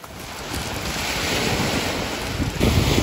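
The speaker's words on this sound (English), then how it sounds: "So we're at the beach in November because it's Canada." Ocean waves washing onto a Canadian beach in November near dusk, a rising rush of surf mixed with wind buffeting the microphone, with no voices.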